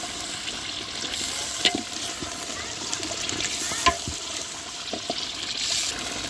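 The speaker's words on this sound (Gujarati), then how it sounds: "હવે એમાં આપણે લીલા મરચાંની ગ્રેવી ઓલી મિક્સર દળેલું એ નાખશું આપણે" Ground green chili gravy goes into a hot pan on a village kitchen stove and is stirred, giving a steady close sizzle with occasional scraping clicks of the spoon.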